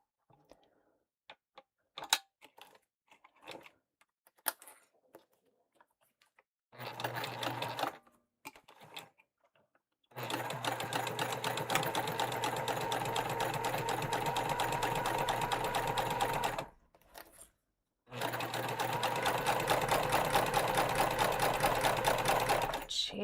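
A domestic sewing machine stitching a tote bag whirs in long, loud bursts that start and stop, the motor running harder as the pedal goes down, after scattered soft clicks and handling noises near the start.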